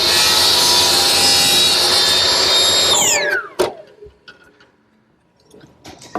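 Saw trimming a hair off a walnut miter for a table panel: a loud, steady cutting whine for about three seconds, then a falling pitch as the blade spins down, followed by a sharp knock and faint workshop clatter.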